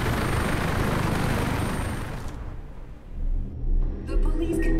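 An escape helicopter in the Warface heist mission gives a broad rotor and engine rumble that fades out partway, followed by quieter mechanical sounds and a voice.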